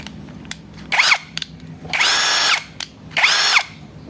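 A cordless battery drill runs in three short bursts at low speed, each with a rising and falling whine, separated by quiet pauses and small clicks, close and fairly loud with no talking.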